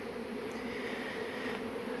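A large swarm of honey bees fills the air with a dense, continuous buzzing close by, with no talk over it.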